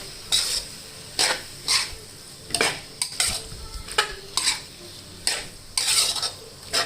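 Boiled bamboo shoots being stir-fried with curry paste and pork belly, with a soft sizzle beneath repeated sharp scraping strokes of a spatula against the pan, roughly one or two per second, close and with no speech.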